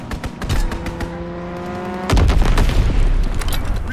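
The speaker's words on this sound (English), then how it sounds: "Strafing the target." A fighter plane's strafing run in Call of Duty WWII, with a steady engine drone that erupts into a loud, sustained burst of rapid gunfire and heavy impacts in the second half.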